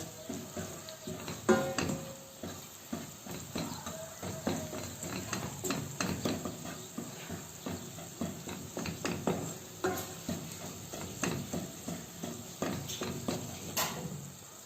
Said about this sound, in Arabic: وخلط كتير مليح لحتى تنحل دبس البندورة بالزيت